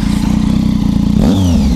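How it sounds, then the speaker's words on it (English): Triumph Tiger 800 motorcycle engine revving loudly up close, the steady low thrum breaking into a rising surge with exhaust pops and crackles as it accelerates. "It also pops a lot when you accelerate."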